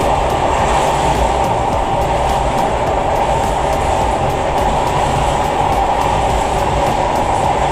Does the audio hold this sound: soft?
no